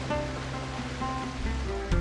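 Waves on the Caspian Sea along the coast of northern Iran make a steady, fairly loud wash of surf with continuous broadband rush, and a low rumble swells near the end; no voices.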